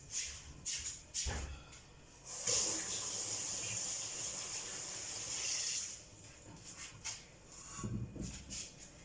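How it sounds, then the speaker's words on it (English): Water runs from a kitchen tap while hands are washed at the sink, a soft hiss that rises for a few seconds between quieter shuffling and splashes, close and fairly faint. "I'm just going to wash my hands."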